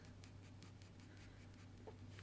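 Graphite pencil shading dog hair on paper, a soft, steady scratching of short repeated strokes, faint and close, with no talking.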